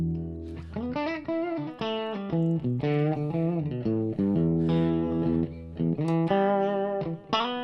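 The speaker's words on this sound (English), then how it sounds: "you could really get kind of an alternative clean tone out of it with a lot of control over the tone" Electric guitar played with a clean tone through a Magic Dust Duo pedal: a run of ringing, sustained notes and chords with a slightly effected, lively shimmer, loud and upfront with no talking.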